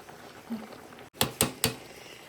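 Tapioca (cassava) cooking in a pot is stirred, giving three quick, close knocks and scrapes of a utensil against the pot in a quiet kitchen.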